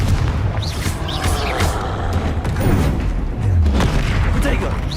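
A Confringo spell exploding in the Hogwarts Legacy video game, heard as loud booming blasts and rumbling impacts in a dense, continuous battle mix with a voice speaking over it.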